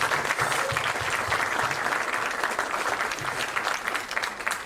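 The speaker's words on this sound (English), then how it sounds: "a big round of applause for Adam." Applause from the audience at a live Q&A for a horror film, an even, continuous wash of many hands clapping at moderate level with a faint low rumble beneath.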